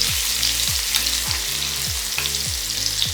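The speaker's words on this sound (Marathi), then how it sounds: "व्यवस्थित लसूण परतून घ्यायचे आपल्याला." Garlic cloves sautéing in hot oil with mustard seeds and cumin in a kadhai, a steady close sizzle with soft stirring scrapes repeating every half second or so, no voices.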